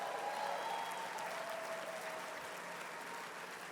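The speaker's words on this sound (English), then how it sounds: "Give a hand clap for them." A large ballroom audience at the 2024 HRC National Dinner applauds, with over a thousand guests clapping in a steady, continuous roar heard from a distance.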